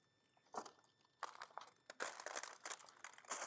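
Rubber objects frozen stiff in liquid nitrogen give short, faint crunchy crackles, in several irregular bursts close by with quiet gaps between them.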